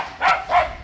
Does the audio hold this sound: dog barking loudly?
yes